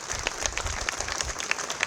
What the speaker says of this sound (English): Have a round of applause for this young gentleman.